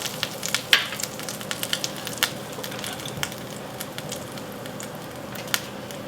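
A flour and fat roux sizzles steadily in a hot pan while being stirred, with a constant frying hiss and scattered sharp crackles and scraping ticks close up.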